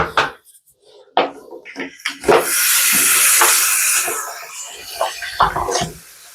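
A wig freshly dyed jet black with box dye is rinsed under running water, giving a loud hissing gush for a couple of seconds, framed by scattered knocks and handling noises close at hand.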